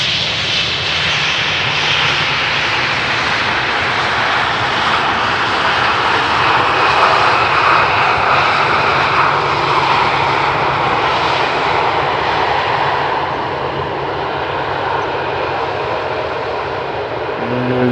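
A fixed-wing airliner lands on runway 18R at Amsterdam Schiphol with a hard touchdown, producing a loud, sustained engine roar that holds steady and eases slightly toward the end.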